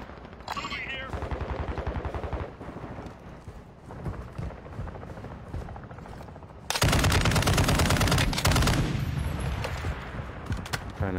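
Video game gunfire in a multiplayer shooter: rapid bursts of automatic fire through the first half, then a much louder, sustained barrage of close shots, with players talking intermittently.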